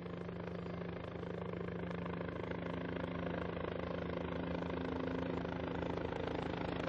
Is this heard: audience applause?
no